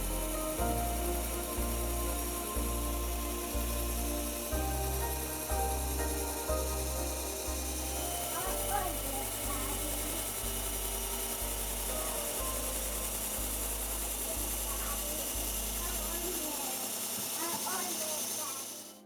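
A knife is sharpened on the fine belt of a Work Sharp Ken Onion Mk2, the motor humming steadily while the blade rasps against the moving belt in repeated passes.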